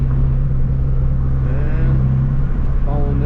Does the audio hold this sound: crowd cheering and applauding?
no